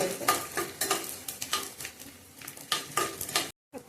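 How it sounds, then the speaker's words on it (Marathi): Edible gum frying in ghee in a pan crackles and sizzles while a utensil stirs and scrapes against the metal in quick repeated strokes, ending in a brief silence. "तुपात बघा चांगला डिंक भाजला गेलाय"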